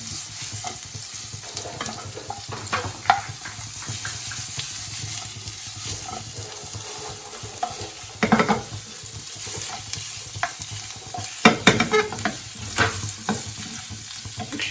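Paneer manchurian frying in a pan gives a continuous close sizzle, with repeated scraping and stirring strokes of a spatula mixing it throughout.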